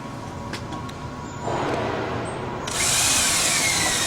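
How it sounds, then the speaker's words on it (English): A bimetal hole saw on a power drill cuts through the metal housing of an exhaust fan, the drill whirring steadily and growing louder and harsher as the cut proceeds. "on these bimetal hole saws, see how it's popped through?"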